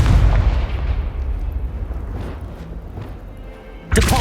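A Confringo fire spell goes off in Hogwarts Legacy, a loud booming blast with a rumbling low-end tail that fades over a few seconds before a second sharp burst hits at the end.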